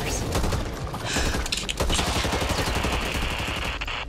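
Rapid bursts of gunfire rattle in the Back 4 Blood video game, dense repeated shots with heavy booms, close and loud, with brief speech mixed in.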